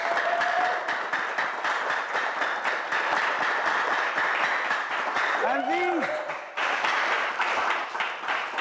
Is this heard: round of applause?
yes